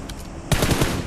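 Gunfire rings out in the battle royale game PUBG Mobile: after a softer stretch, a loud close burst of rapid automatic shots fires in quick succession, with no talk over it.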